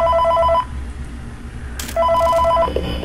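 A phone ringing in the Five Nights at Freddy's 3 video game, two loud electronic ring bursts separated by a pause, over a low background hum, with no speech.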